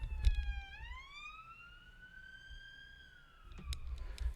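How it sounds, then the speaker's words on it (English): Police and fire sirens wail in a long, sweeping rise and fall, loud and continuous, with muffled low rumbling and a few knocks underneath. "God, those sirens are still going."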